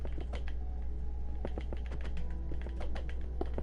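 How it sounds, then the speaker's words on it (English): A game controller trigger clacks in rapid, irregular bursts of light plastic clicks during Minecraft play, close and fairly quiet over a faint low hum. "Also, sorry if you hear that, like, spastic clacking. That's just my trigger."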